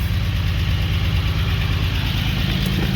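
A 1945 Jaguar MK4 2.5 engine idles steadily up close, a loud, even low-pitched rumble with a regular pulsing beat throughout and no talking.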